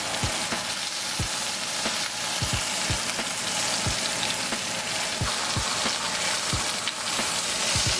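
Large meat breasts fry in a pan with a loud, continuous sizzle. Several sharp pops and crackles break through it at uneven intervals, all close by, with no voices.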